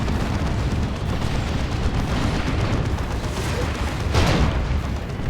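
Rocket run airstrike in the Dawn of War 2 game hits as a dense, continuous barrage of rumbling blasts, with a sharper, louder burst near the end and no voices.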